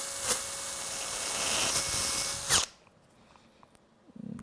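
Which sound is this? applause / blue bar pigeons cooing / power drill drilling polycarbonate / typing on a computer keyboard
power drill drilling polycarbonate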